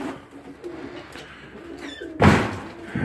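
Young pigeons coo softly inside a shed, a low murmuring under faint rustles, followed by a sudden loud bang or clatter near the end.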